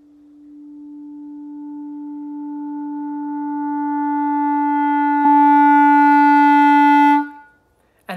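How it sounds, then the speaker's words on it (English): One clarinet tone held on a single pitch swells from very soft to loud over several seconds in a smooth crescendo, then stops abruptly; solo and close with no talking. "a crescendo would sound like this."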